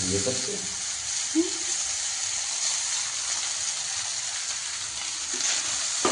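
Leftover rice frying in a pan at home, a steady broad sizzle running throughout with a couple of brief low voice fragments or stirring touches near the start and middle.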